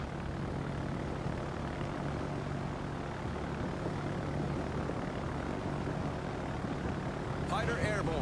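A fighter plane launches from a German heavy cruiser in a naval battle game, its propeller engine droning steadily and loudly throughout with a brief higher whine near the end.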